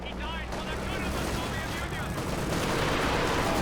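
A Katyusha rocket artillery barrage in Company of Heroes 2 roars as a dense, continuous rumble of launches and explosions. Commentary runs over the din.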